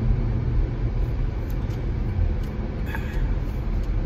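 Steady, dense road rumble from inside a moving car, a continuous low drone of engine and tyre noise with no breaks, heard close and unvarying throughout.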